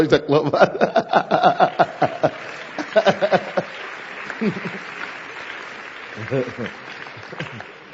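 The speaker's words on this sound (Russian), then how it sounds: "Да, можно хлопать." A burst of clapping and light laughter from a small audience, loud at first and fading, with a voice speaking over and after it.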